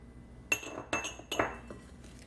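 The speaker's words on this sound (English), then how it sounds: "Let's stir that up." Spoon clinking against a mixing bowl while sugar is stirred into a flour mixture, three distinct close clinks about half a second apart over a quiet background.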